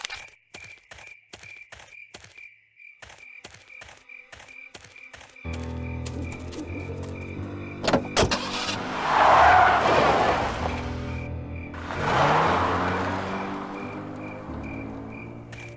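In the video game Full Throttle Remastered, a car drives through a night scene full of rhythmic cricket chirps, then an engine drone rises and loud tire-squealing skids follow in two swells.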